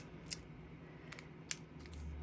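Metal scissors handled on a craft table for picking up rhinestones while making a Christmas card, giving two sharp, faint clicks about a second apart over quiet room tone, with no talking.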